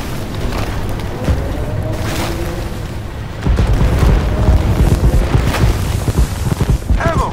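A tank cannon hit in Armored Warfare lands as a deep, heavy boom, and loud rumbling blasts and bursts roll on afterward in a dense, close barrage.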